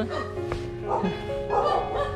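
A dog barks at a house during an outdoor slingshot hunting trip in Vietnam, a few short yips and barks nearby while people talk.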